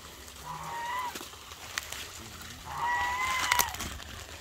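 Geese feeding on lettuce give off a few honking, clucking calls in two bursts, near and fairly loud, over an outdoor background.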